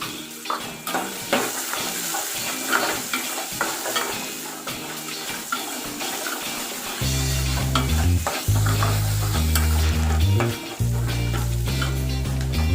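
Onions sizzle and are stirred in a pan with a little salt, the scraping strokes steady and close throughout, with background music joining in the second half.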